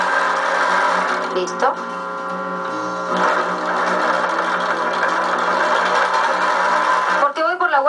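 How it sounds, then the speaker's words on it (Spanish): Sewing machine fitted with a special presser foot and a size 16 needle stitching a seam through fabric with batting, a steady continuous mechanical whir with brief pauses, running under a speaking voice. "De todas maneras tengo un piecito especial puesto en mi máquina"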